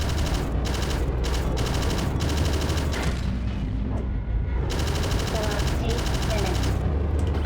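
Gunfire from a spaceship's weapons in the space combat game Astrokill comes as loud, rapid repeating bursts over a dense continuous roar, with one short lull midway.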